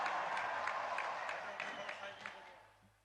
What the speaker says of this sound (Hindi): आइए तालियों के साथ इस भव्य प्रस्तुति का स्वागत करें